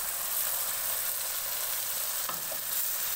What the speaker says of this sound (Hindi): हमने दही डाली है। अब हम इसको अच्छे से मिक्स करेंगे और 10 मिनट के लिए इसको पकाएंगे कवर करके।